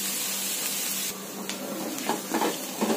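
Chopped onions sautéing in a pan for masala dosa filling: a steady, fairly quiet sizzle and hiss, with a few light scrapes and stirring clicks toward the end.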